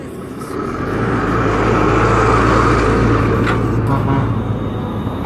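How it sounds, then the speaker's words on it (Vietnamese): A BKMF dump truck hauling soil at an industrial park construction site in Binh Phuoc, its engine a steady loud rumble that swells slightly mid-clip, no voices heard. "đây cũng có xe tải của BKMF nó ra vô để nó chở đất"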